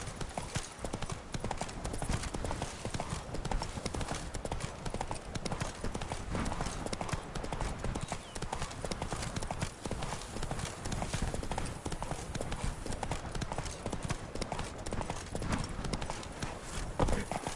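Hooves of Geralt's horse Roach clip-clop at a steady galloping rhythm in The Witcher 3, dense and continuous over game ambience, with a brief spoken call over it.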